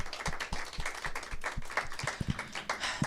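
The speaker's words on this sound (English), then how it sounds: "please join me one more time in a round of applause for James." Congregation applause following a song at a Sunday church service, a short burst of scattered individual claps mixed with softer crowd clapping.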